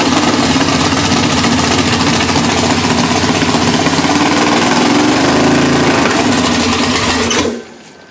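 A Mercury car engine runs without its choke hooked up, giving a loud, steady, buzzing rattle that ends abruptly when it cuts off near the end.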